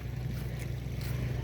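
A boat motor drones steadily on open water among many boats in the Surigao Dinagat Islands, Philippines, a low engine rumble with faint wind and water wash over it.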